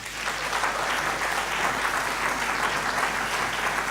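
Sustained hand clapping from a gathered audience at a residential care home event welcoming residents, a dense uniform patter that stays level for the full few seconds.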